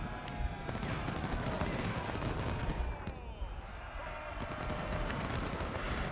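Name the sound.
musket gunfire from video game Ultimate General: Civil War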